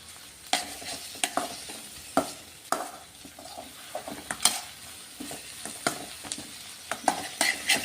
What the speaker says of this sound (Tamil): கடுகு, உளுத்த பருப்பு, சோம்பு, வெங்காயம் போட்டு இப்போ வதக்கிட்டு இருக்கோம்